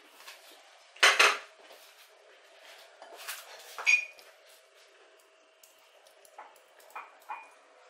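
Canned red pepper added to a dish for a Russian mimosa savory cake, with sharp utensil clinks and scrapes against a bowl in scattered bursts, then quieter taps at the end.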